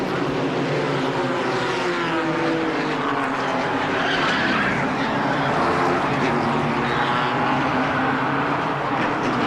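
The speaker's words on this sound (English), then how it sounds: "13 cars go sprawling across the Charlotte Motor Speedway after the mishap in turn 1" Thirteen stock cars skid and crash in a multi-car wreck in turn 1 at Charlotte Motor Speedway, with loud continuous tyre squeal and roaring engines that carry on throughout.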